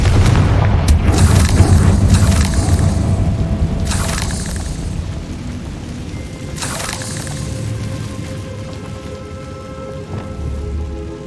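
Confringo blasting spell explosions in the Hogwarts Legacy video game: several loud, sharp booming bursts at irregular intervals over a rumbling, rain-like game backdrop.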